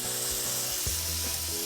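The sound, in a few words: salmon fillets frying in melted butter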